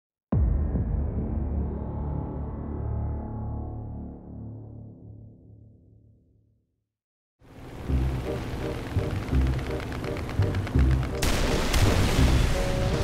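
A loud, booming tank cannon blast in the video game War Thunder opens with a long rumbling decay fading out, then another burst of heavy explosive gunfire and crashing impacts follows.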